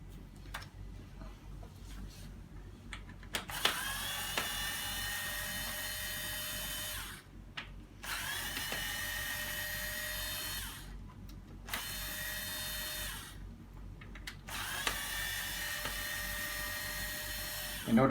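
A power drill backs screws out of the plates on an UPPAbaby Cruz stroller, three sustained whirring runs of several seconds each, close and loud, with short quiet gaps between them.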